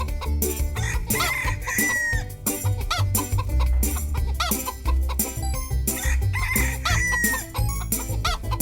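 Chickens cluck and a rooster crows in an animal-feeding video game over continuous upbeat game music with a heavy bass, the bird calls popping up repeatedly throughout.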